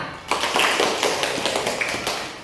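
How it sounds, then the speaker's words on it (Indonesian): Schoolchildren in a junior high science class clap their hands together briefly, a quick burst of close, bright clapping lasting a couple of seconds. "Oke, tepuk tangan."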